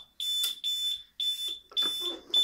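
A Legrand ECS 206 25 fire alarm control panel buzzer sounds a shrill electronic alarm in repeated pulses, with brief gaps between bursts and some faint background noise.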